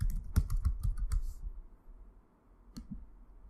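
Typing a password on a computer keyboard to log in: a quick run of distinct, close key clicks, then a pause and two final taps, quiet and without talk.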